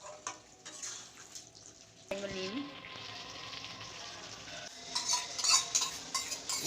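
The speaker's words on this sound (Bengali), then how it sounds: "সব কিছু মিক্সড করে আমি এটাকে কষাতে থাকবো এখানে এক ফোঁটাও জল দেওয়া যাবে না" Chicken is stir-fried dry in a pan with no water added, giving a sizzle under scraping and clinking of a spatula stirring against the pan. The stirring grows busier toward the end.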